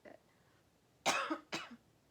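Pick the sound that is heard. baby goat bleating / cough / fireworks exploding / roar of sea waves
cough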